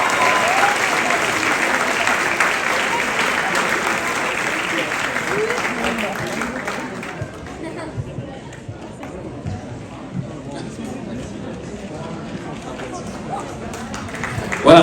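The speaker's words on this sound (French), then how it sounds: "je pense qu'on peut les applaudir bien fort" A crowd applauds award winners at a ceremony, loud dense clapping for the first seven seconds that then fades into softer scattered claps and crowd murmur.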